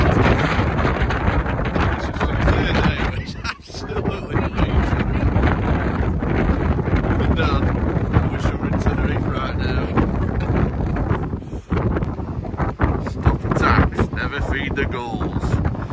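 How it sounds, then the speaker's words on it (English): Strong wind buffets the microphone in loud continuous gusts, with a voice speaking intermittently underneath the roar. "honestly, it's actually so windy."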